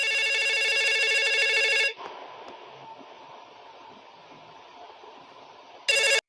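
A telephone rings while a call is placed: a loud electronic ring for about two seconds, then a quiet hissing line, and a second ring bursting in near the end.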